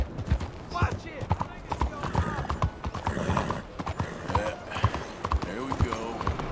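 Horse hooves clip-clopping in Red Dead Redemption 2, a steady, close rhythmic clatter of hoofbeats with creaking tack, with speech over it.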